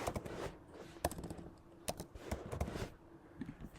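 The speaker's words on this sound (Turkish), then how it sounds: "Tekrar yazıyorum." Typing on a computer keyboard, heard as a close, fairly quiet run of irregular key clicks and short bursts of taps.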